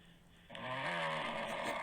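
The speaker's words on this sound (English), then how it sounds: "I think there's a real snore." Person snoring, a single faint raspy drawn-out breath that swells in and stays steady, heard from a distance with no talking over it.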